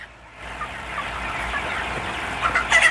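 Poultry sounds dominate the scene: overlapping clucks and gobbling calls from many coloured broiler chickens on a farm, steady and close, with a louder burst near the end.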